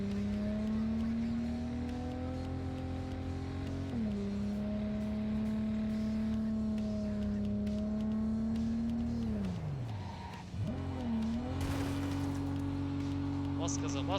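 Car engine in Cyberpunk 2077 holding a steady tone, briefly dropping in pitch around the middle then climbing again as it accelerates, loud and continuous under game audio.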